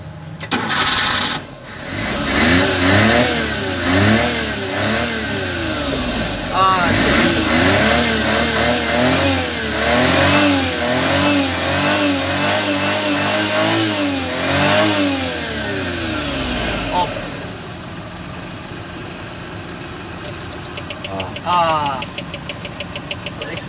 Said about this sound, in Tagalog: Start the engine!